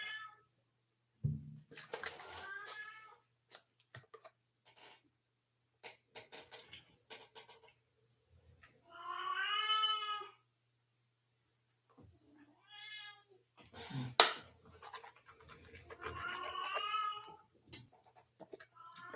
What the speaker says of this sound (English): Oh, the cat is screaming.